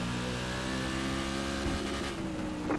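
Silver Crown race car engines drone in the iRacing sim at Nashville Fairgrounds Speedway, a loud, sustained multi-car roar with steady tonal harmonics and slight rises in pitch as cars run close together, without speech.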